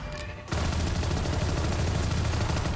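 Rapid automatic gunfire sprays in the tactical shooter game Valorant during a competitive LAN match, a loud continuous burst kicking in after a brief quieter moment and running to the end.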